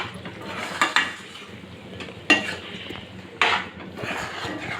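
Gongura paste stirred into chicken in a pan: soft scraping with three sharp metallic clanks of the utensil against the pan.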